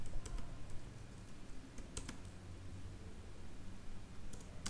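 Rapid clicking of a computer keyboard as code is typed, a steady run of close, quiet keystrokes with a few sharper taps, heard alone against a soft room hiss.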